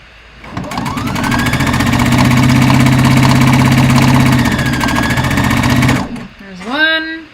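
A sewing machine runs steadily while stitching a playsuit, a loud, even, continuous mechanical whir lasting about six seconds before stopping abruptly, followed by a brief spoken voice.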